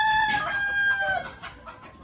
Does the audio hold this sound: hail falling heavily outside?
no